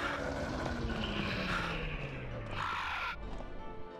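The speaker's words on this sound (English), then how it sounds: "It sounds like the bird's in here, but I know he's not." A crow caws inside the Dead Rising video game, a faint, fairly distant call rising over a low steady game ambience, with a sweeping mechanical hum beneath and no speech.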